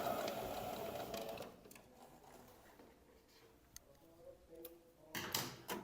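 A sewing machine stitches a blouse shoulder seam in a quiet, steady run for the first second and a half, then falls to soft ticking and small clicks before a brief louder burst near the end.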